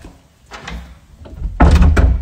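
A door is pushed shut nearby: a few light knocks and handling sounds, then a loud, heavy thud as it closes, followed by a short rattle.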